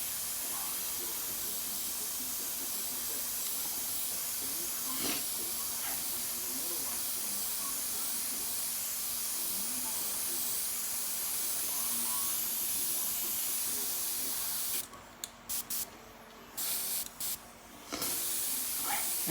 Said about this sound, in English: a full overspray, like for about this distance, see? Just to dust everything over, to blend it all out.